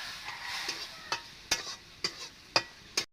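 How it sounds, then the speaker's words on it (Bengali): Spices stirred and fried in a pan with a little water for hog plum chutney, giving a low sizzle under a series of sharp, evenly spaced scrapes and clicks of a utensil against the pan. "একটু আমি জল দিয়ে একটু ভাজিয়ে নেবো।"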